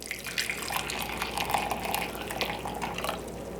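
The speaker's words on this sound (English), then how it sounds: "very carefully pour your juice in" Reduced chicken stock, about three-quarters of a cup, poured carefully into a pan for gluten-free Thanksgiving gravy, giving a steady close trickle and splash of liquid for a few seconds with no talk.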